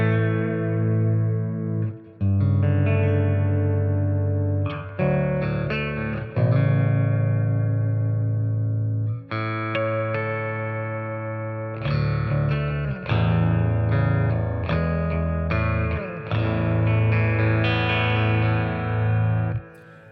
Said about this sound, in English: here comes the long decay reverb.